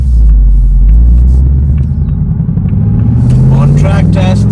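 Ford Mustang GT California Special 60th Anniversary Convertible accelerating hard from standstill to 100, a loud deep engine rumble climbing in pitch through the gears, with faint talking near the end.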